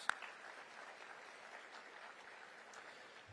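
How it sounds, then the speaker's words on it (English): Faint, distant applause from a civic audience at a State of the City address in Oklahoma City, a soft, diffuse patter of clapping with one sharp click near the start, continuing evenly at low level. "Let's applaud them as well."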